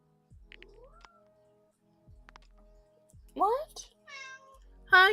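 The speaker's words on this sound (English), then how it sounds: "Sorry, apparently the cat wants to be part of this." A cat meows several times in quick succession, close and clear, with falling and rising calls, following sparse clicks and soft mouse or keyboard noises in a quiet room.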